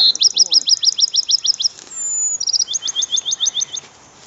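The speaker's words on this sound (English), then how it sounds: "There's a bob white." Bobwhite quail calling outdoors at a birding and wildlife festival, with two loud runs of quick, repeated whistled chirps, one after the other, close and clear over a quiet background.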